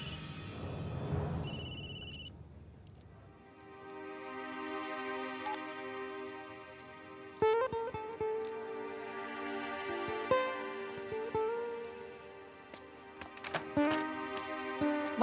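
A phone rings with a call from a private number, its electronic ringtone repeating in short melodic bursts over a steady musical backdrop, fairly close and moderately loud, with no one speaking.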